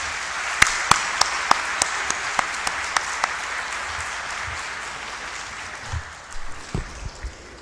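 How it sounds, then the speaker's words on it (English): Audience applause for three panelists at a security conference session: a broad wash of clapping with a few sharp, isolated claps standing out early, fading to faint sparse claps and thumps by the end. "I would now request a huge round of applause for the three panelists"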